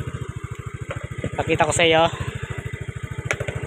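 A Yamaha Mio Fino scooter, repaired after stalling when its engine got hot, idles nearby with a steady, rapid pulsing putter while someone talks over it.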